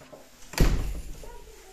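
A door swings shut with a single solid thud inside a home, a short near knock followed by a brief fading rumble.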